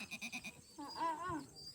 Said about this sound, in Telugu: చిన్న మేకలు కదా